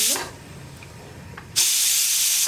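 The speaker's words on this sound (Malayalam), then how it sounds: "ഇതുപോലെ വെയിറ്റ് പൊക്കി കൊടുക്കുക. അപ്പോൾ ആ പ്രഷർ പോയിക്കൊണ്ടിരിക്കും." A pressure cooker's weight lifted while chickpeas cook, giving a soft hiss that suddenly bursts into a loud, steady jet of escaping steam lasting to the end.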